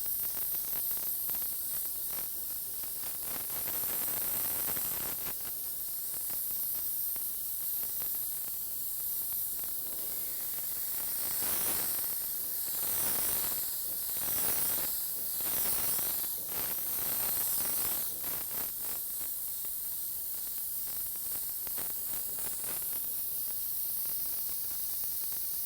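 A spray gun blows air to dry a brown candy-colour paint coat, a steady close hiss that swells and fades in long bursts with no talk.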